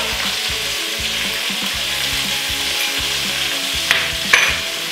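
Sambal chili paste fries and sizzles loudly in a pan while being stirred, a dense continuous crackle with rhythmic scraping strokes and a couple of sharper clinks near the end.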